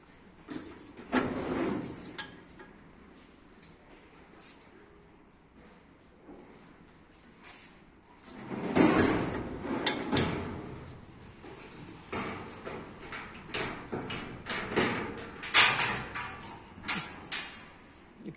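A two-drawer metal cabinet for housing security equipment, its drawers sliding open and shut in several brief wooden-sounding clatters and knocks, close and moderately loud, with quieter gaps between.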